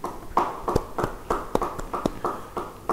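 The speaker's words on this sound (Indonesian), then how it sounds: "Beri tepuk tangan bagi dia" A church congregation claps along at a sermon, the claps falling in a quick, steady rhythm that sounds like a small crowd in a reverberant hall, with no talking over them.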